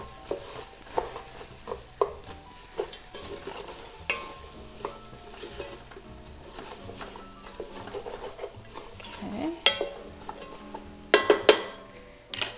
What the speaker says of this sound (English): Just gonna stir all that in there.